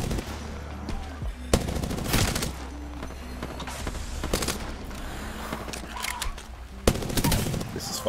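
Automatic gunfire in Apex Legends, dense rapid bursts of close shots rattling over a steady low drone, with sharper single cracks punctuating the volleys and a voice talking briefly between them.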